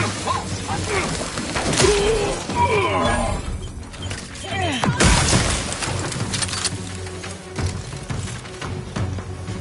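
A grenade blast in The Outer Worlds 2 on PS5 bursts out near the middle amid busy game combat noise, with crashes, music and a voice speaking around it.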